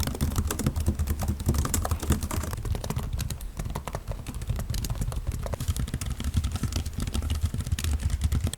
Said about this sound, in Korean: 타이핑 소리가 어느 정도인지 직접 들어보시죠